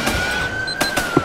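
Gunshots ring out in a GTA roleplay police game: a few sharp, loud reports in quick succession over a steady background hum, close and punchy.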